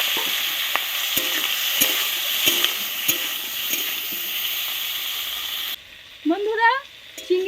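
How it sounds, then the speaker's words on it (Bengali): Prawns fry in hot mustard oil in a pan with a loud, continuous sizzle and a few sharp stirring clicks, which cut off abruptly before a short stretch of speech. "আমি সর্ষের তেল দিচ্ছি চিংড়ি কটা ভাজার জন্যে।"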